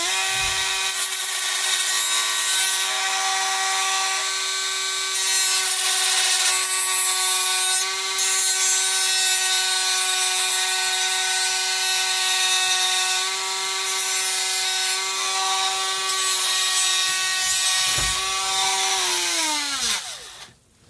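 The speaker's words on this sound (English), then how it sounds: "Dremel. Just going to chop this corner off." A Dremel rotary tool cuts off the corner of a workpiece while making a trophy, its high steady whine buzzing loudly close by for about twenty seconds, with brief bites as it cuts, before spinning down at the end.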